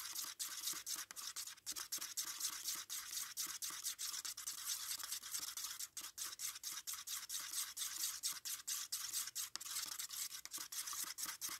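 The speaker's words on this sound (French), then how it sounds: "je m'arrête de mélanger" Air-dry modeling paste being mixed by hand, a close, quiet stream of rapid, rhythmic scraping and squishing strokes that continues steadily without pause.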